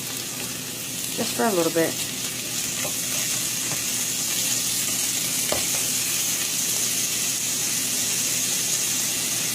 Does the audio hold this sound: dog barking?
no